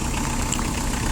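A Kubota Saturn X20 four-cylinder four-wheel-drive mini tractor idles close by, giving a steady, even mechanical rumble with no speech over it.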